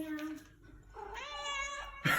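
A cat meows nearby, a short first call followed by a longer rising, drawn-out meow, then a brief louder sound at the end.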